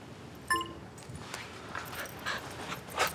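A dog whimpers softly in a home setting, with short high whines and faint panting, a brief clink near the start, and no talking over it.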